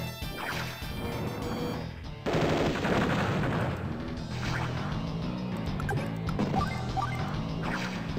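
Gunfire from the Advance Wars Dual Strike game, dense rattling bursts and crashing hits over continuous game music, loud and unbroken throughout.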